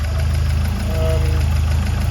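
A 1979 Ford RS2000's freshly rebuilt engine runs at a steady idle, a close, even, rhythmic throb with a faint knocking pulse that holds unchanged throughout the short stretch.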